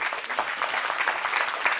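Audience applause during a Hindi-language interview with a film director: a dense, steady patter of many hands clapping at moderate level, with no voices over it.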